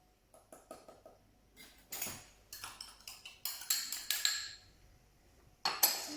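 Plain flour and icing sugar being stirred in a bowl, heard as a series of light clinks and scrapes of a utensil against the bowl, coming in short irregular clusters, close and fairly quiet.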